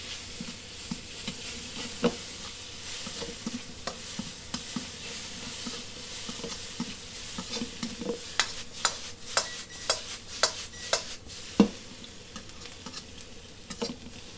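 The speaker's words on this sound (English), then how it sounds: "Stir fry the egg in" Vegan egg made with ackee, turmeric and black salt stir-fried in a wok, a soft continuous sizzle with a series of light spatula taps and scrapes that quicken and grow louder toward the end.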